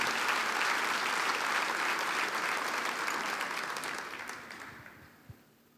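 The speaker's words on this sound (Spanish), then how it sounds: "Vamos, denle un aplauso fuerte al Señor." A church congregation applauds in a dense, even roar of clapping that holds steady, then thins and fades away, leaving a single late clap near the close.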